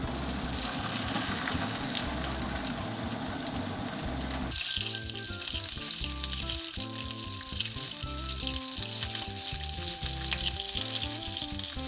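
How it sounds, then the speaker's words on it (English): Duck breast, salted on both sides, frying in a pan on low heat, giving a steady, dense sizzle that runs throughout with crackling and occasional spatter, with no talking. "Salt on both sides generously and then drop it onto a pan on low heat."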